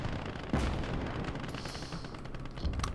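Explosive blast from bombing a StuG assault gun in Gates of Hell: Ostfront, one heavy boom standing out over steady battlefield rumble and scattered distant gunfire.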